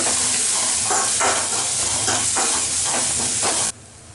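Green chillies go into onions frying in a pan for street-style kothu parotta, giving a loud, steady sizzle with rhythmic stirring pulses that stops abruptly near the end.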